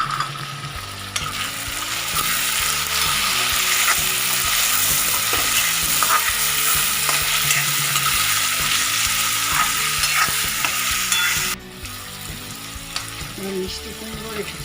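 Chopped tomato and reddened ingredients fry in a pan while being stirred for pumpkin bharta, giving a loud, continuous close sizzle with rhythmic stirring scrapes, briefly dipping near the end.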